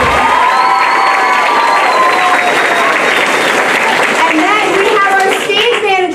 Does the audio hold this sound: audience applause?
yes